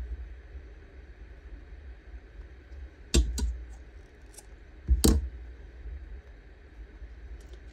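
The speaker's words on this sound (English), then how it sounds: "I do want to just snip a little bit off, which I'll do on an angle" Scissors cutting paper for a book-page craft, two crisp separate snips a couple of seconds apart over a low steady room hum, no talking.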